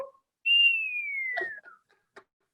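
One long, clear whistled note slides slowly downward during a church puppet ministry show, followed by a few faint clicks and short noises in an otherwise quiet room.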